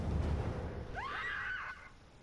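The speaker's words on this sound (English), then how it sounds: "What was that scream?" A scream rings out in the Star Wars Battlefront 2 campaign, a single wavering, rising cry of about a second heard over a low battle rumble, moderately distant.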